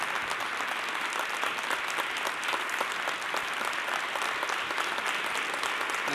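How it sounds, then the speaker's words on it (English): An awards dinner audience claps continuously for an honoree, a thick wash of many hands at a moderate level, unbroken from start to finish. "Give him a round of applause,"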